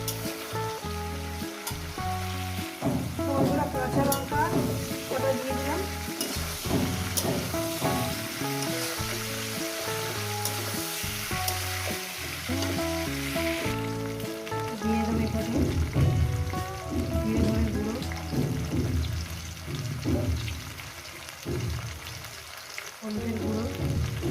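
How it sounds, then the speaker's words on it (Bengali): Eggplant and cauliflower frying in oil in a pan, a continuous dense sizzle with occasional stirring and scraping, steady and moderately loud over a long stretch, with no voices. "বেগুন আর ফুলকপি দিয়ে এটা আমি ভাজবো"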